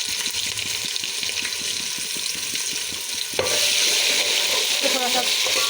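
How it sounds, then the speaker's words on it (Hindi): Ginger garlic paste with onions frying in a pan for matar pulao, a sizzle with rhythmic stirring scrapes at first, then a sudden louder burst of sizzling that stays steady and close. "तो थोड़ा सा अदरक लहसुन को फ्राई कर लेंगे।"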